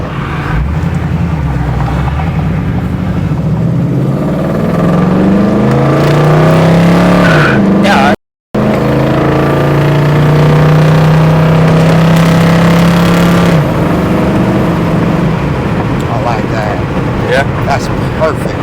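A 1984 Cadillac Coupe DeVille accelerates hard, its engine roaring loud and close as the pitch climbs, drops at a gear change into second, then climbs again. Voices speak over the steady engine noise.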